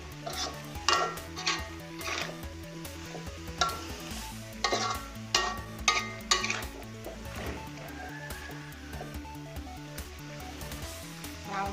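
Ivy gourd stir-fried with red curry paste and pork in a pan, with a spatula scraping and clattering against the pan in a steady rhythm over a continuous close sizzle.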